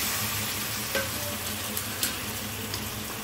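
Chicken frying with sautéed onions in a pan, a dense, steady sizzle with a few light knocks from stirring, close and unbroken by speech.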